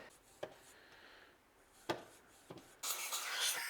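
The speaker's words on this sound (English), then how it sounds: "I will use also this little brush thingy to clean out the valve stem guides." A small brush scrubs inside the valve stem guides of a fire-damaged BMW 335i cylinder head, giving quiet scattered scrapes and taps before a louder stretch of steady rubbing at the end.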